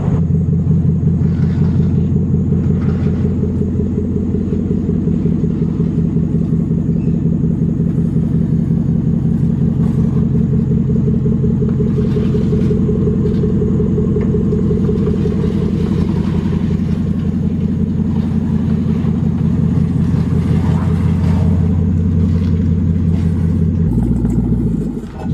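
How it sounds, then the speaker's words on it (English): A Lexus LS400 (UCF20) on a driveway test drive gives a loud, steady low engine rumble throughout, close and continuous with slight revving changes, then a drop near the end; no talk. "now we're just about to test drive it up and down the driveway real quick"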